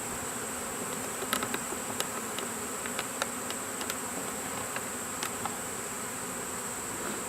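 A honeybee swarm makes a steady, dense, high buzzing as the bees walk up into a hive, with scattered faint ticks and taps over the continuous drone, and no talking.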